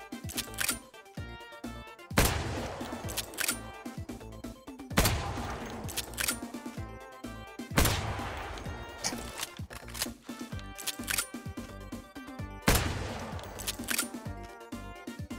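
Gunfire in a VR video game with many guns, repeated sharp shots and rapid bursts at irregular intervals, close and punchy, with mechanical clicks of gun handling between them.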